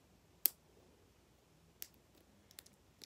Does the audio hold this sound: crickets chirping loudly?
no